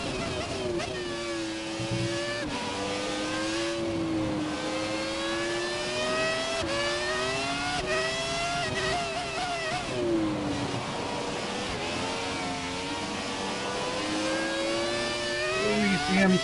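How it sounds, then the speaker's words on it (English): An early 2000s Ferrari Formula 1 car in a racing game, its high-pitched V10-style engine shrieking and rising through gears in repeated sweeps, sustained and loud with brief drops between shifts, a voice occasionally underneath. "Gotta kick back and listen to the sounds. The early 2000s Ferrari, beautiful sounding"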